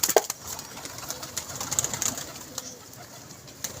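A yellow racing pigeon at a pigeon club, fallen and ringed, gives brief soft coos close by at the start, with light rustling and scattered clicks filling the rest.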